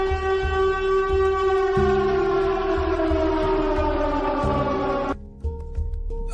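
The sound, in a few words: alarm siren sound effect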